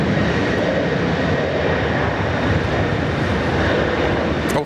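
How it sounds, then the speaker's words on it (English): A Qantas airliner takes off from Sydney Airport, its jet engines giving a loud, steady broadband roar that holds for the whole stretch with no talk over it. "There's Qantas 87 off to Seoul this morning."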